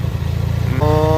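A vertical two-cylinder engine fitted to a green onion transplanter runs at a steady, loud, throbbing idle close by, then its pitch rises slightly near the end, with no voices.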